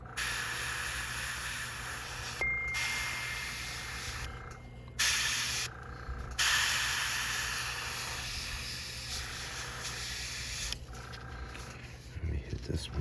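A paint spray gun fitted with a 2.0 needle sprays hot pink paint onto a topwater popper fishing lure, giving a loud, steady airy hiss in several long bursts separated by brief pauses.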